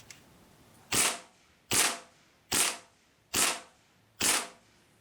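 A Sig Sauer Rattler BB gun fires a group of five shots, each a sharp, close crack evenly spaced less than a second apart, with near silence between them.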